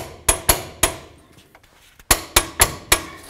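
A torque wrench tightens the caliper bolts on a 2015–2020 GMC Yukon to 170 foot-pounds, giving sharp, loud metallic clicks: three in quick succession, a pause, then four more.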